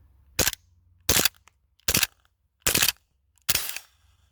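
Five sharp airsoft gas pistol shots fired at a 20-yard target on an outdoor range in cold weather, evenly spaced about every seven-tenths of a second, each a crisp crack with a short tail, alone against near silence.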